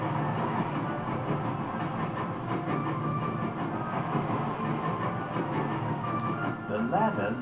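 A train running at full speed in the Master Thief video game gives a continuous loud rumble with steady rhythmic clatter throughout, heard from close by, with a voice speaking over it at times.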